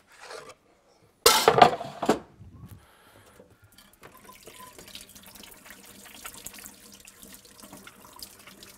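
Running water from a kitchen tap splashes loudly for about a second while hands are washed after preparing fish, then quieter sink and dish clatter continues faintly.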